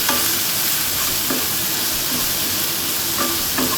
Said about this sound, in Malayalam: ഇതൊന്ന് ഇളക്കാം. ഇതെല്ലാം നല്ലതുപോലെ ഒന്ന് മിക്സ് ചെയ്യേ.